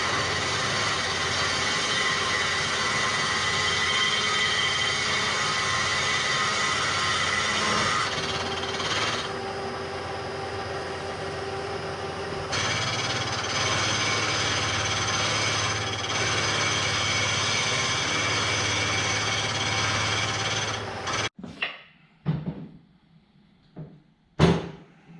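Grinding clearance into a Dana 44 axle housing so a Dana 50 ring gear will drop in for a Jeep TJ build, a steady, loud continuous tool noise for about twenty seconds that cuts off into a few short clunks.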